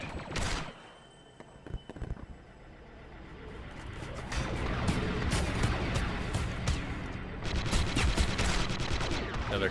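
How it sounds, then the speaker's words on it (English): Rapid gunfire from a commando pistol in a large 50-versus-50 Star Wars battle on Tatooine, with dense overlapping bursts and crackling shots that swell into a near-continuous barrage. "Zach is up here sniping with his commando pistol."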